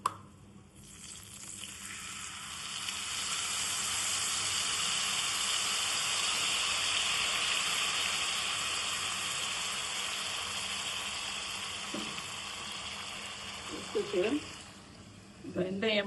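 Thick tamarind extract poured into hot oil tempered with spices and asafoetida for imli thokku, giving a sustained loud sizzling hiss that slowly fades, then a few stirring clatters and a voice near the end.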